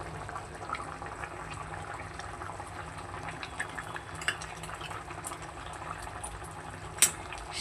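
Fish curry of tengra fish and winter cauliflower simmers in a covered pot, a soft steady bubbling and faint liquid burble running throughout, with one brief sharp click near the end.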